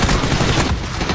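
Gunfire in the battle royale game PUBG, dense overlapping bursts of shots sounding like a sustained fusillade, loud and close throughout, with no talk.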